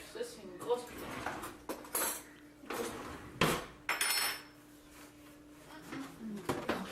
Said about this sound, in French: Compliqué ouvrir les pots.